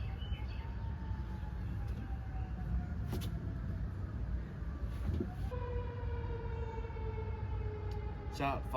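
Fire truck sirens wail past outdoors, a steady rising and falling tone that grows louder and shifts in pitch over a constant rumble of traffic, lasting throughout.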